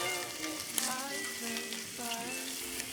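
Maida flour sizzles and fries in a pan with light stirring, a steady crackling hiss lasting throughout at moderate level, while a voice makes cooking sounds faintly in the background.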